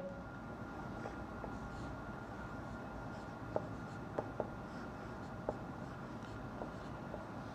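Writing on paper or a board during a Class 9 physics numerical problem, with faint scratchy strokes and a few short sharp tapping marks over a steady background hum.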